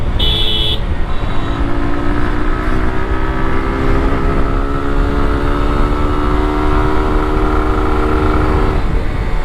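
Suzuki Gixxer Monotone motorcycle accelerating in third gear, its engine note rising steadily and loudly up close over rushing wind noise, ending with a brief drop near the end.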